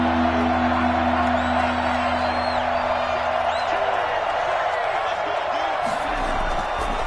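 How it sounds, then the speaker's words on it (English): A stadium crowd in a Madden football video game builds before a big third down, a steady wall of cheering and whoops with scattered shouts, loud and continuous, with a faint low tone fading out early. "the crowd getting into it as we come up on a big 3rd down"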